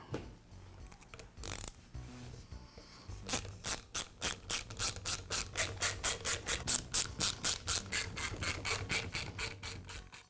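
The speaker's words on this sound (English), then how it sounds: "I'll begin by removing the cap from the nail gun." A DeWALT finish nailer being taken apart, with its cap coming off: a few scraping, clicking handling sounds, then a long run of quick, regular ratcheting clicks close by, like a tool turning the fasteners, with no talk.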